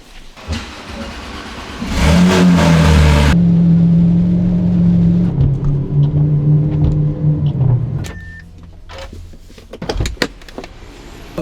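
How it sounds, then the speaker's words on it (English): Car engines and tyres rumble inside a parking garage as cars are driven in to shelter from a hurricane, a loud sustained drone with echoing hiss, then fading into scattered knocks and clunks. "We're gonna move the cars to a parking garage nearby"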